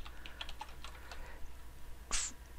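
Keys tapped quickly on a computer keyboard while a ChatGPT prompt is typed, a faint close run of clicks followed by a pause and a sharper clack near the end.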